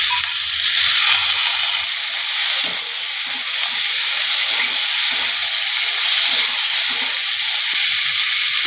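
Sliced teasel gourd, cut like fries, hits a hot pan and sets off a loud, steady sizzle. The hiss carries on close and unbroken, with faint scraping and clicking underneath and no talk.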